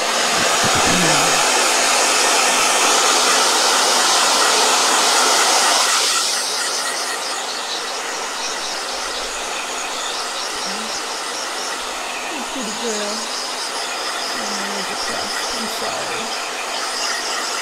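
A blow dryer runs loud and close with a steady rushing whir, then drops to a softer, lower setting about a third of the way in and keeps blowing steadily.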